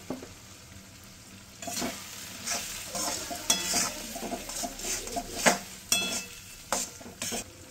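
Green peas and spice masala are stir-fried in a kadai, with a spoon scraping and clanking against the pan in irregular strokes over a soft sizzle, close by and with no talking.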